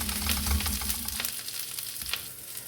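Pirandai, curry leaves and garlic fry crisp in hot oil with a dense, steady crackling sizzle and a few light stirring scrapes over a low hum.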